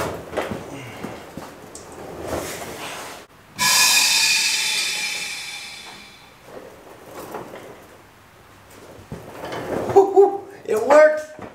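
A valve is opened on a Duramax truck's air bag suspension, releasing a sudden loud hiss of rushing air that tapers off over a few seconds as the bags inflate, with speech around it.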